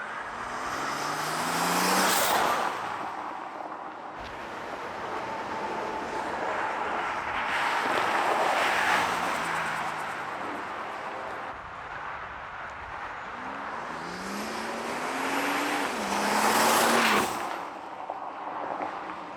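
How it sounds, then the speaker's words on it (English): Twin-turbo V12 Mercedes with aftermarket blow-off valves, heard while driving at part throttle: a rushing intake whoosh swells and fades, punctuated by sharp bursts of valve release around two and seventeen seconds, fairly loud and close. "you can just hear that air rushing in, and then our aftermarket blow-off valves"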